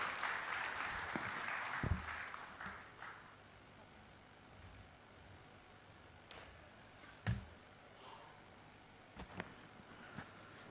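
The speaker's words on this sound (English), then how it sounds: "huge round of applause" Audience applause at a conference event as the BSE CEO is welcomed onto the stage, a broad clatter of clapping that fades within a few seconds into quieter room noise with occasional isolated knocks.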